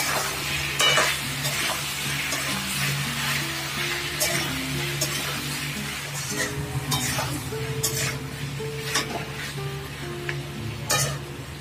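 Ginger-cumin paste fries in a pan for a pumpkin and potato curry, with steady sizzling under repeated scraping stirs and occasional clinks of a spoon against the metal, no talking.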